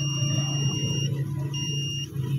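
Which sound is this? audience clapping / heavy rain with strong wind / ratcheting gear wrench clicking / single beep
single beep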